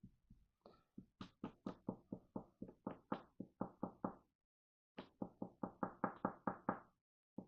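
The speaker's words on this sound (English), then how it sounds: "I need to probably knock this tip out." Pilot Parallel fountain pen being knocked against a hard surface to free its nib, two quick series of sharp rhythmic knocks separated by a brief pause, close and clear with no talking.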